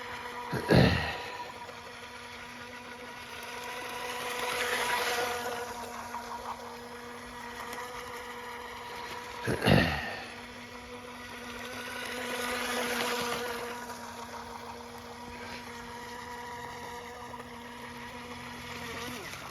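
A tiny single-stepped hydroplane model boat with a cheap small motor runs on water, its thin whining drone rising and fading as it passes, with two sharp bumps and some faint talk.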